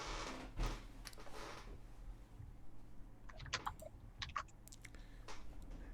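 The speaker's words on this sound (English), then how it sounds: "And Maggie, once you're done typing in your answer," Computer keyboard typing with soft, irregular key clicks in short bursts, quiet and close, over a low background hum.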